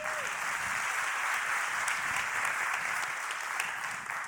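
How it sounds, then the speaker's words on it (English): Steady applause from a conference audience at a YMCA World Council panel, sustained and even for the whole stretch, with no voices over it. "Can I have a round of applause to Matias?"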